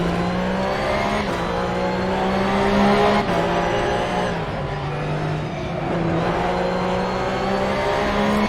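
A Porsche 911 GT3 Cup 2017 race car at Laguna Seca in Assetto Corsa: the engine howls loudly and steadily under acceleration, with brief dips at gear changes before climbing again.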